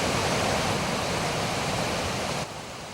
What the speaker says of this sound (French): Des chutes qui fascinent et attirent, la puissance et la force du courant, de persistants nuages d'écume